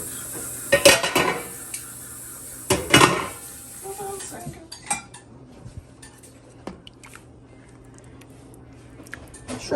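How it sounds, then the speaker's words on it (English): A spoon scrapes and clanks against a pot of gumbo in a home kitchen, with a couple of loud metallic strikes followed by softer scraping and stirring. A voice talks quietly in the background. "stir the gumbo"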